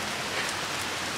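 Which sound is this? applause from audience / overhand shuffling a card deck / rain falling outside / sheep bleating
rain falling outside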